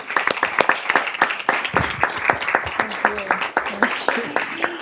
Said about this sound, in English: join me in giving Dr. Taylor a round of applause for her incredible leadership